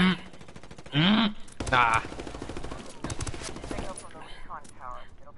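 Incoming gunfire in the Ghost Recon video game rattles in rapid automatic bursts, steady and fairly close, while players talk over it with loud spoken interjections.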